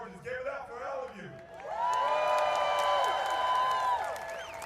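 A crowd at a No Kings rally in Atlanta, near the Georgia Capitol, breaks into loud, sustained cheering with high whoops and shouts after a voice speaks briefly at the start.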